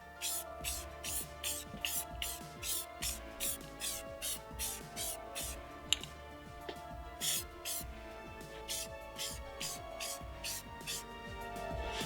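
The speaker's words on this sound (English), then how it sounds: "give them a nice little light dusting of a spray" Spray primer dusting tabletop miniatures for Dungeons and Dragons, a rapid series of short hissing bursts in a steady rhythm, close by and moderately loud, pausing briefly midway before resuming.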